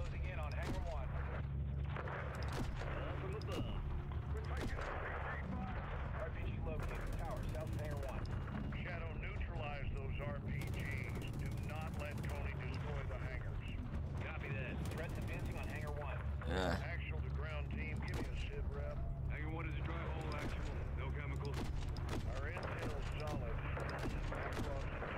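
Call of Duty: Modern Warfare 3 gameplay with dense, continuous gunfire and explosions that stay loud throughout, mixed under frequent talking from players.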